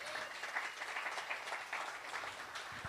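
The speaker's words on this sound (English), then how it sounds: "I need another round of applause" An audience at a pub talk event gives a round of applause, a steady wash of many hands clapping at moderate distance for the full stretch, with no speech over it.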